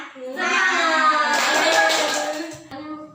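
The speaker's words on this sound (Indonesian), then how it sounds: "kita tepuk semangat terlebih dahulu" Classroom of children doing a rhythmic Indonesian 'tepuk semangat' spirit clap before a lesson, a steady burst of group hand claps that runs about two seconds and then breaks off, with children's voices mixed in.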